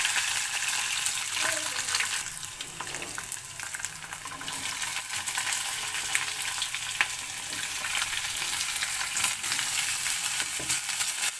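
Potatoes frying in hot oil in a pan, a loud continuous sizzle with occasional scraping and clinking as they are stirred, no talking.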